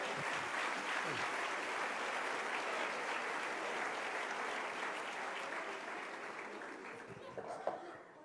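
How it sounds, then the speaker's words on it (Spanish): A church congregation breaks into sustained applause for the King, a broad dense clapping that holds steady and slowly thins toward the end, with a few louder claps near the close. "denle un aplauso al Rey."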